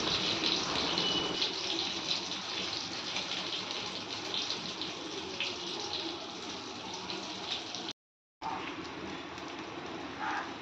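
Pieces of surmai fish fry on a large pan with a constant, rain-like hiss of bubbling oil, close and even, interrupted by a brief silent break.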